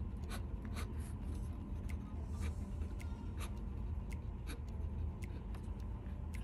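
A fountain pen filled with Sailor Yurameku ink writes and draws lines on paper, giving faint, close scratchy strokes in irregular bursts over a low, rumbling room background.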